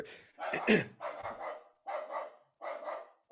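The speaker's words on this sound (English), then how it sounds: "Definitely a Puerto Rican dog coughing." A German Shepherd with kennel cough gives a series of harsh, hacking bursts, about four rough coughs in a row with short pauses, fairly close.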